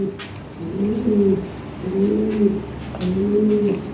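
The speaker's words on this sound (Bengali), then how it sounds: "আরও কবুতর আছে ভালো ভালো কবুতর আছে" Lahori and Sirajee fancy pigeons coo close by, three distinct, rounded cooing phrases in a slow rhythm with little else around them.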